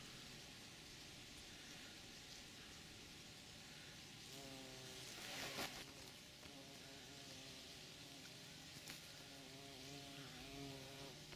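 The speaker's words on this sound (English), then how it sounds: "I can hear a bumblebee." Bumblebee queen, the first bee of the season, buzzing among spring flowers in a garden; a faint, steady hum with wavering harmonics drifting in and out over outdoor background noise, no talk.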